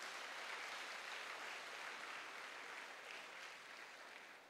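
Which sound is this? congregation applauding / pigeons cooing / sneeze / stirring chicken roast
congregation applauding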